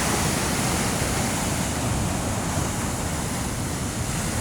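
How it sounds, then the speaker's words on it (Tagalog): Strong ocean surf at San Juan, La Union, a dense continuous roar of crashing waves with wind, loud and steady throughout with no talk. "Napakalakas ng alon dito"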